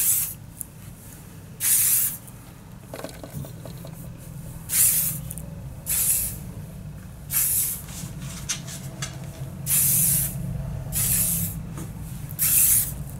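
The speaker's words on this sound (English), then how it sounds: "I'm going to use a quash finishing spray just to finish this off." Hair finishing spray from an aerosol can hisses in a series of short bursts, roughly six sprays spaced a second or two apart, close and fairly loud over a quiet room background, applied to styled waves made with a curling iron.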